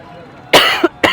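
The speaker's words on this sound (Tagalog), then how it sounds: "Sorry, may ubo ako." Two sharp coughs, the first harsh and drawn out with a short rasp, the second quick and abrupt, close to the microphone with quiet between.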